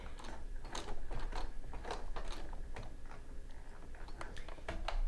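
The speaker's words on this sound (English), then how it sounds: "I'm going to go ahead and stitch with it riding in the outside groove" A sewing machine stitches twin-needle pintucks in a scalloped pattern, with a fast, steady mechanical ticking and clatter running continuously and close by.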